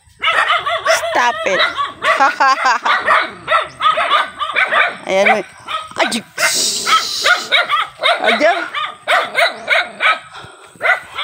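Several dogs chase a woman on foot, barking, yipping and whimpering close by in rapid, overlapping bursts, while she shouts at them over the noise.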